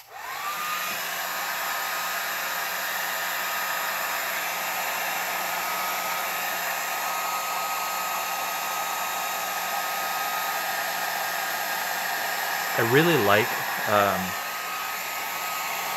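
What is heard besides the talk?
blow dryer running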